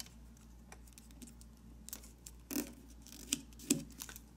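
Paper folding for an origami model: soft crinkles, scrapes and a few sharper creasing snaps close up in a quiet room, sparse and irregular.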